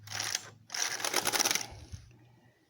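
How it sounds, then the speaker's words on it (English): An industrial knitting machine's carriage makes a single pass across racked beds knitting 2x2 ribbing, giving a dense mechanical clatter that pauses briefly, then resumes and cuts off, with a faint low hum underneath. "We'll knit across."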